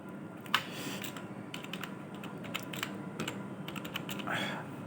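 Keyboard typing on a computer while entering department details into a financial assistance bill form, a quick run of near clicks with short pauses, steady throughout, no talk.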